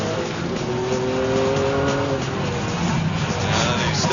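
A Maserati MC12 is driven hard into a corner on a race track. Its engine roars loudly and steadily throughout, with some tyre noise.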